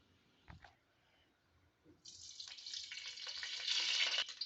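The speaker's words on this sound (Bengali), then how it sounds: "তো চলো কড়াই আমি এখন তেল দিয়ে দেবো।" Oil goes into a kadai for a Bengali fish curry: a couple of soft knocks, then from midway a steady bright sizzle and hiss that builds and stays loud to the end, with no voices.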